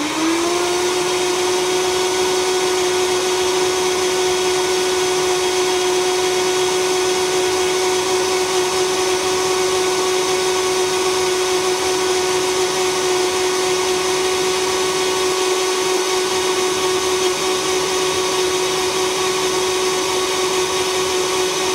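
Blending bowl blender running at maximum speed on fruit puree, a loud, continuous high-pitched motor whine with a steady tone that never varies, no voices over it.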